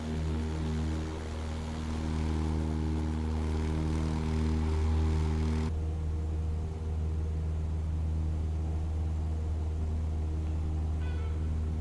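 A Cessna propeller engine in Microsoft Flight Simulator, flying in Florida, holds a steady droning hum with strong low harmonic tones that stays loud and even throughout, and the high hiss drops away about halfway through.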